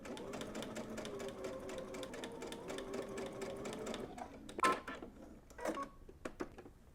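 A sewing machine runs a basting stitch on a pant piece, giving about four seconds of steady close whirring. It then stops, and a few sharp clicks and taps follow in near quiet.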